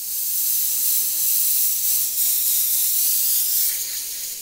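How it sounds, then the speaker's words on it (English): An airbrush sprays reducer with a loud, steady high-pitched hiss, wavering slightly as the hose stops drawing liquid and the spray begins to sputter and fade toward the end. "And you can hear it starting to not come through because that hose now is no longer sucking up any of that product."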